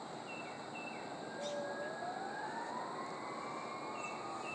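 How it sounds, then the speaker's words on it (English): Distant sirens wail outdoors, rising and falling tones drifting over a steady wash of background noise, with no voices. "we got a lot of sirens kicking off out here already this morning"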